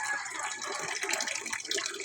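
Water runs and trickles steadily through a foam sponge filter in a backyard tilapia tank, a continuous close splashing gurgle with no voices.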